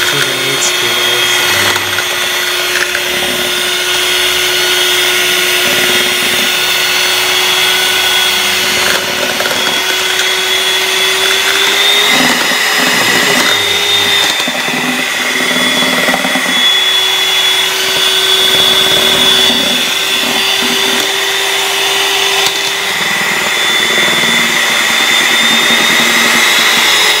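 An electric mixer runs continuously while milk chocolate ganache for crepes is being made, a loud steady motor whine with a faint shifting pitch throughout.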